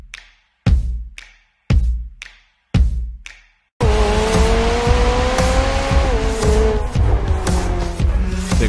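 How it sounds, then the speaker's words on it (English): A McLaren 765LT engine blips loudly several times, then screams up through the revs in a sustained, high-pitched roar from its quad exhaust, close and very loud. "that high frequency scream as you're going up the RPM range"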